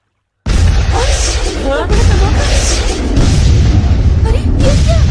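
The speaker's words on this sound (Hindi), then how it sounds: "अरे उधर देखो, कितना बड़ा धमाका।" A cartoon explosion sound effect from a Hindi animated jungle adventure: a sudden, loud, close blast that swells into a sustained, dense rumbling roar lasting several seconds, with voices talking over it.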